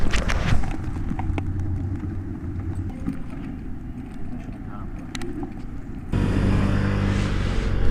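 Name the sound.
motorcycle engine running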